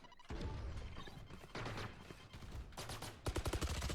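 Dense gunfire and bursting grenade explosions from a Valorant match: rapid cracks and rattling volleys pile up loud and close, ending in a fast run of sharp repeated shots, with no voices.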